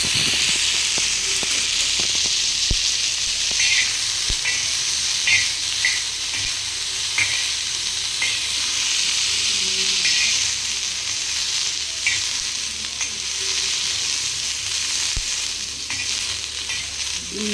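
Green chillies frying in hot oil for a spicy raw chilli masala, giving a continuous close sizzle and hiss with scattered crackles and occasional stirring.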